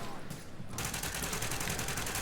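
Gunfire in the shooter game The Division: a rapid run of evenly spaced shots begins abruptly partway through and continues steadily at moderate loudness, with no talk over it.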